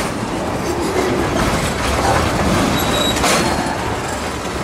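Loud, steady rumble of train wheels rolling over a spring switch on the track, with faint clanks and a brief high squeal, close by.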